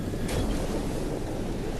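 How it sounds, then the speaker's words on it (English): Summoned waves in the Battlewake naval battle game, a steady wash of surf and wind with a brief splash burst early on, no voices. "her magical little ability is to summon little waves"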